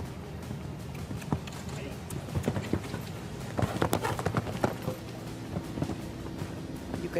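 Hooves of a show jumping mare clip-clop in a quiet indoor arena mid-round, steady thudding strides with a few sharper knocks, close and moderately loud while a commentator talks over them.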